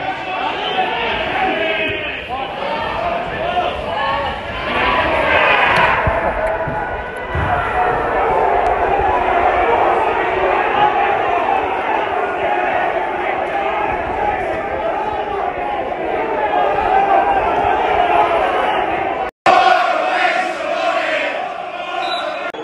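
A big football crowd at a Bohemians vs Shamrock Rovers league match roars and chants steadily and loudly, with a brief cut near the end and a voice speaking close by over the noise.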